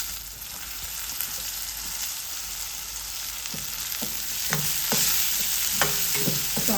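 Finely chopped tomato frying with softened onion in a pan: steady close sizzle with a string of scraping stir strokes growing louder in the second half, no voices.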